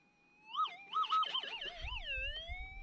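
A Minelab SDC gold detector screams as its coil passes over a small piece of scrap metal in the scoop, a loud wavering warble that rises and falls several times, with low digging rumble coming in at the end.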